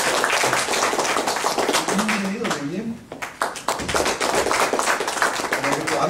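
Audience members at a panel forum clap continuously as the panelists are introduced, the applause running under a presenter's voice throughout.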